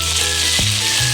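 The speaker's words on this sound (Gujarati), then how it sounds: "તો તમે જોઈ શકો છો આપણો અડધો ભીંડો સરસ એટલે સરસ સતળાઈ ગયો છે તેલમાં" Okra sizzles steadily in hot oil in a pan, a dense, close, continuous crackle with a brief scrape of stirring, and no talking.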